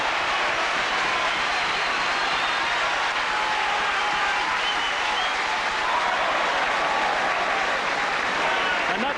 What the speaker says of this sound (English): that reception from the crowd leaves them in no doubt that they're the favourites here as Robert Jones, Wales' scrum half